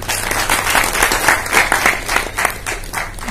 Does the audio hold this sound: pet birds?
no